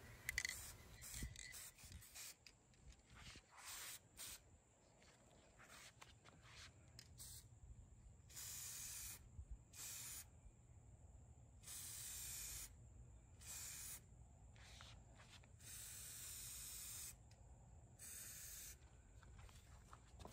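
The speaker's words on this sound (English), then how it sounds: "I'm spraying the can into the driveway and just moving it towards the body until it hits" A spray paint can sprays onto a guitar body outdoors on a driveway, in repeated bursts of bright hiss lasting one to two seconds each, separated by short pauses, close and steady over light breeze.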